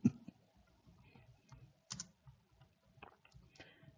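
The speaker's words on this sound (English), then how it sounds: "I'm not able even to type correctly" Soft, uneven keyboard tapping, quiet and close, with a few louder key clicks standing out among light rapid strokes.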